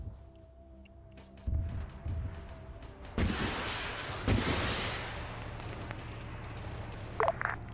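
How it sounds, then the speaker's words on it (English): Several heavy booms and crashes from video game explosions go off over a steady rumbling battle din, with a couple of sharper bursts near the end. "We're hearing some explosions fire off."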